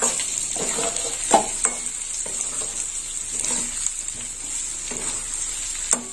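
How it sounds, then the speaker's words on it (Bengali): Spices frying with 400 grams of loté fish, salted and coated in turmeric, in a pan: a steady close sizzle runs throughout, with soft stirring scrapes and a couple of sharper clinks, no talking. "আর একটু মশলাটা এর সঙ্গে ভাজা হবে।"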